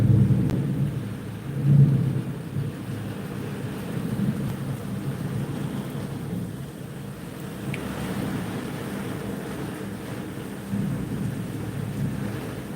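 Steady rain during severe weather in the Washington, DC area, with low rumbling like distant thunder rolling beneath a constant wash of water and wind.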